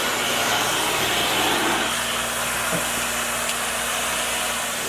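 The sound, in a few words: Sac Surface Pro tile and grout cleaner spraying and vacuuming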